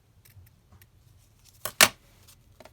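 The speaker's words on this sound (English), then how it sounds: "Just trim that off at the side." Scissors trimming lace at the edge of a paper craft, two quick close snips in a row followed by a softer one, amid quiet handling sounds.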